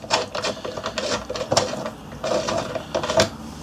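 Blade screws being loosened and taken out of a C S Osborne & Co. 86A leather splitting machine with an 8mm hex key, a close series of metallic clicks, taps and scrapes in an uneven rhythm, no talking.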